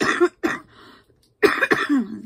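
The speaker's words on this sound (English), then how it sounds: "Again, sorry for the cough." Several harsh, close coughs in two clusters, two quick ones, a brief pause, then another burst of coughing from a person indoors, with no talk over them.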